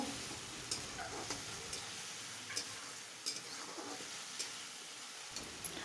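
Masala with curry leaves fries in a pan for samosa chutney, a soft steady sizzle with light scraping as a spoon stirs at intervals, faint and close, with no talking.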